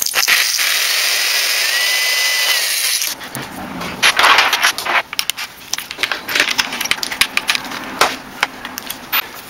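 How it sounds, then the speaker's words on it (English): A high whining drill runs steadily, then gives way to rough, irregular grinding and scraping as a larger bit chews through plastic in bursts. "So when I start with the bigger drill bit,"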